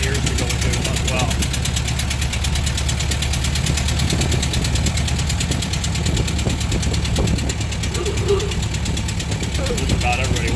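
A Ford Model T engine runs loud and steady as the car is driven, a dense, rumbling drone with a rapid chugging texture that fills the whole stretch.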